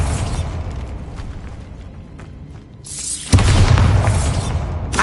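A Bombarda blasting spell goes off in Hogwarts Legacy: a sudden loud, close booming burst with a sustained rumbling roar that carries on after the impact, preceded by a quieter mechanical rumble.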